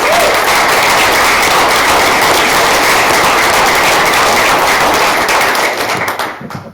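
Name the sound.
round of applause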